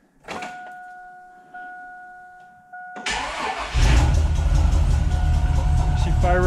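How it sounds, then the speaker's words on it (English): A 2001 GMC 2500 HD truck with a Texas Speed 220R cam is cranked by the starter, then fires and settles into a loud, steady loping idle up close. A high electronic chime tone rings at the start. "we're ready for the first fire up on the Texas Speed cam install"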